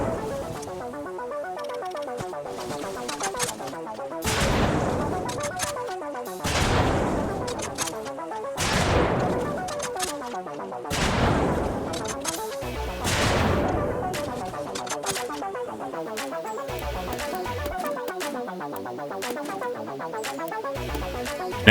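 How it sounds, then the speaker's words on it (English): RPG warheads fired at a Bradley armored vehicle in a Battlefield game, about seven separate loud blasts, each a sharp crack trailing into a fading roar, spaced a couple of seconds apart over a low rumbling backdrop. "As we can see, the first two warheads work very well against the Bradley."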